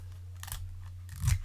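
A piece of Scotch tape is pulled and torn off the roll, with short crinkly rasps and a final louder rip, close and fairly quiet over a low electrical hum.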